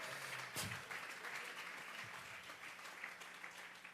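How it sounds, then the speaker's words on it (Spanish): A church congregation claps as an offering of praise during a Bible study, producing a steady, fairly faint wash of applause that continues throughout. "Vamos a regalarle ofrenda de palmas al Dios de la gloria."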